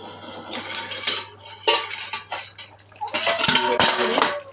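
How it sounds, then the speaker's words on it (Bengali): A plate used as a lid is lifted off a pan of simmering fish curry, giving several close, loud metallic clanks and scrapes of dish against pan in quick bursts. "আমি এবার থালাটা খুলে দেখবো।"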